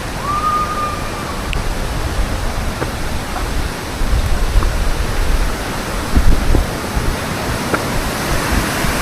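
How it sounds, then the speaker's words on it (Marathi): Steady broadband rush of water from a hidden waterfall near Karjat and Bhivpuri, heard from close by on a monsoon outing, with a brief whistle-like tone early on and no talk. "हा बघा वरून धबधबा असा दिसतो मित्र"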